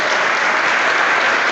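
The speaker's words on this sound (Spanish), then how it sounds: "Si va a aplaudir, aplauda fuerte." Loud, dense applause from a church congregation at a Spanish-language service, clapping merging into an unbroken roar for the full moment without a pause.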